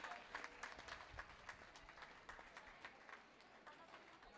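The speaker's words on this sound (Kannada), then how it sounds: "ಜೋರಾದ ಚಪ್ಪಾಳೆ ಬರಲಿ ಪುಟಾಣಿಗೆ" A crowd at an award function applauds a young recipient, a faint, scattered patter of clapping heard from a distance and tapering off toward the end.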